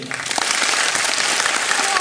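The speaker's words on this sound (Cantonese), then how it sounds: "不如咁咧，我哋俾啲掌聲" An audience at a hi-fi product launch event in Hong Kong breaks into loud, dense applause that continues for the whole stretch, close and full.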